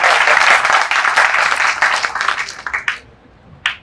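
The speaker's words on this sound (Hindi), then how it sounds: "तो ताली बजा दो जोर से" An audience at a Hindi literary award ceremony and book launch claps loudly in a dense burst that thins out and fades, ending in a few scattered last claps.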